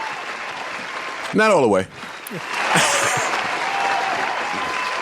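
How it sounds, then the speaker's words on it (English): A round of applause for Spotify breaks out briefly during a podcast, a short burst of clapping that rises under and after the talk and then fades. People speak over it. "Round of applause for Spotify."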